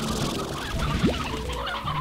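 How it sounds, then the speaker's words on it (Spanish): Chicken clucking in the video game Slime Rancher, a short clucking call over a busy background of game sounds. "A ver, una gallina, necesito una gallina."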